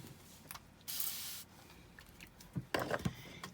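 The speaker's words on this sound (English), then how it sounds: "And I'm gonna spray my brush with a little water." A spray bottle hisses out one sustained burst of water mist onto a brush, close by, followed by faint rubbing and small handling noises.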